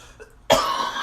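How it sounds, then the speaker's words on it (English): A woman coughs in a room filled with soot from a lit scented candle, one sudden harsh burst after a quiet moment, close and loud, trailing into a rough, breathy rasp. "She's still coughing."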